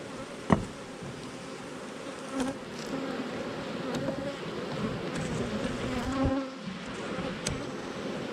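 Honey bees buzz steadily around a beehive, a dense, continuous hum of many insects close by, with individual bees droning past now and then and no talking.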